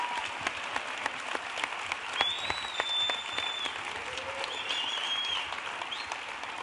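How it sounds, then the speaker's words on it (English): An audience at a nonprofit launch event gives a sustained round of applause, dense clapping spread evenly across the room at moderate loudness, with faint tonal squeaks above it and no speech. "One more round of applause, please, for Dennis and the Georgia Firefighters Burn Foundation"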